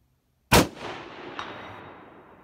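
A single sharp, loud rifle shot from a Howa 1500 Mini-Action in 6.5 Grendel cracks outdoors, rolling into a long fading echo with a faint distant ping of the bullet striking a steel target plate.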